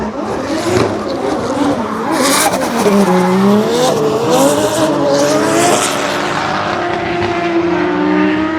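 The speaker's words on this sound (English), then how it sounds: "This is what drifting's all about." Drift cars at Formula Drift Japan practice at Fuji Speedway, with loud tires squealing in long, wavering skids over roaring engines that rise and fall as the cars slide past nearby.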